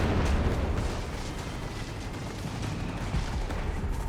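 Heavy gunfire and strafing rumble in Company of Heroes 3 as a Panther tank advances, a dense, continuous barrage of bursts and booms close by, loud and unbroken, with no talk.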